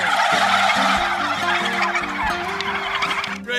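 A flock of free-range Willie Bird turkeys gobbles together in a loud, overlapping chorus of warbling calls, close and continuous across the pen.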